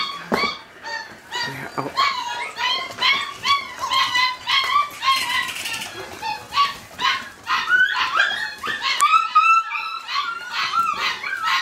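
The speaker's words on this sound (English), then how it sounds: "Puppies!" Puppies yip, bark and whimper in rapid, overlapping bursts close by, a busy, high-pitched chatter that keeps going for several seconds.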